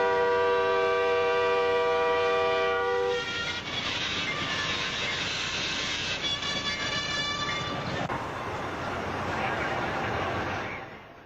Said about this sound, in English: Even at this slow speed, the force of the train is incredible.